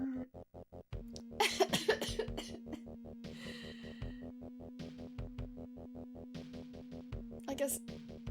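A person coughs in a loud cluster of harsh bursts over a steady chiptune background from the Sega Genesis game D&D: Warriors of the Eternal Sun, with a few further coughs and a short spoken phrase later.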